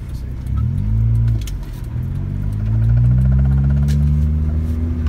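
A 1991 Honda Civic with an electrical fault pulls away from a stop sign, its engine note rising loudly and steadily before stumbling and dropping off as it cuts out, then droning on at a lower pitch.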